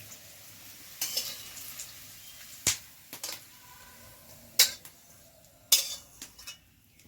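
Fried bitter vegetable is tipped into a vegetable curry in a pan. Scattered spoon and pan clatters sound over a faint low sizzle, with a few sharp metallic clinks near the end.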